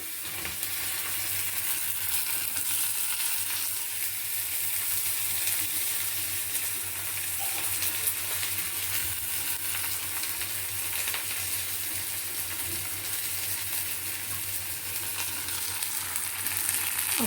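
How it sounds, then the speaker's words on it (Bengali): Sliced onion frying in butter with a little white oil over medium heat, a continuous even sizzle held close and steady throughout, with no talking. "মাখনের সাথে অল্প একটু সাদা তেল দিয়ে প্রথমে একটু পেঁয়াজ বেরেস্তা করে তুলে নেব"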